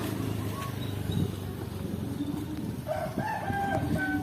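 Crated guinea fowl from East Java waiting for pickup at a railway station, several birds calling and clucking over a steady crowd-and-platform din, with a louder burst of calls near the end.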